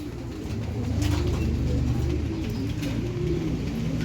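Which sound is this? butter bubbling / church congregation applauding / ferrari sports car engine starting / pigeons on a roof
pigeons on a roof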